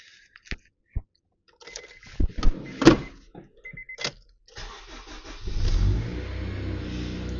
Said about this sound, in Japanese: じゃあちょっとエンジンをかけてみたいと思います